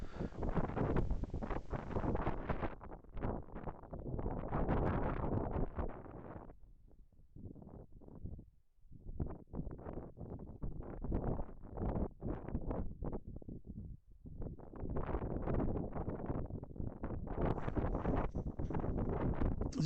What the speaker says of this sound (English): There's a bit of a nasty gusty wind hitting us every now and then as well.